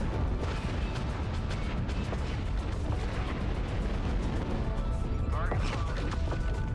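Artillery barrage pounding down in MechWarrior Online, a dense, continuous rumble of heavy booms and crashes that never lets up, with a voice talking faintly underneath.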